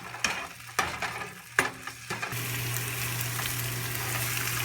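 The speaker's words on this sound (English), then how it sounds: "add the eggplant after the garlic sautés for 30 seconds" Garlic and eggplant sauté in a pan, with sharp clacks from a utensil knocking the pan at first, then a loud continuous sizzle with a steady low hum running beneath.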